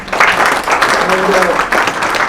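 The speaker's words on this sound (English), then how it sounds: "Ladies and gentlemen, a big round of applause to my eminent panelists." Conference audience applauding panelists at an air cargo industry session, a dense, steady wash of clapping close by that fills the whole stretch, with faint voices mixed beneath it.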